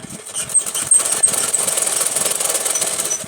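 A sewing machine stitches a Rajputi kanchali blouse, a fast steady mechanical rattle running close and continuous with a slight whir.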